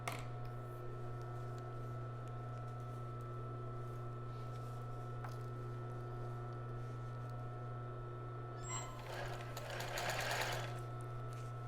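A sewing machine stitches elastic onto a child's bra, running as a steady close hum throughout, with a brief louder burst of fabric handling near the end; no one speaks.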